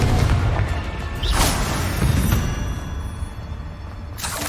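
Confringo blasting-spell explosions in Hogwarts Legacy: several loud, heavy booms with crackling debris, spaced about a second apart over a continuous rumbling background.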